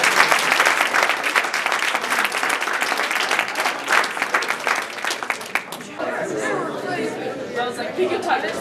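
Audience at a Poetry Out Loud competition applauds a poet with loud, dense clapping for about six seconds, then a voice speaks over lingering scattered claps.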